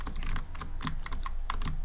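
Code being typed on a computer keyboard, a quick close run of crisp key clicks in an uneven rhythm, with a few louder taps standing out.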